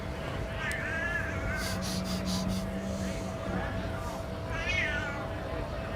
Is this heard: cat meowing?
yes